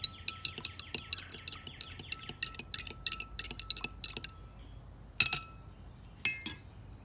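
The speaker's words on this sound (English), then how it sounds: "I'm gonna stir it up so it dissolves." A metal spoon stirs baking soda and water in a glass, giving rapid, bright clinking taps against the glass in quick bursts, then a pause followed by a few louder isolated clinks.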